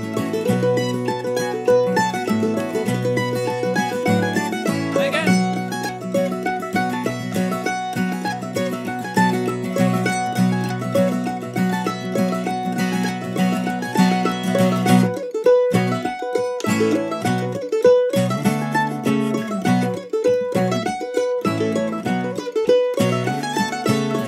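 The Irish reel Jenny's Chickens played on solo mandolin at a brisk, steady pace, with quick picked notes, ornamented runs and a bright, close, continuous tone throughout, no voices.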